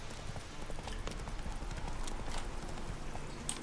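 Roach, the horse in The Witcher 3, trots with a steady clip-clop of hooves, close and continuous, with a short whinny-like burst near the end.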